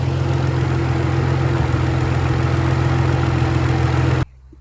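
A turbocharged BMW E39 wagon's M54 engine idles steadily and loudly up close, with a faint irregular stumble from a misfire, before cutting off abruptly near the end.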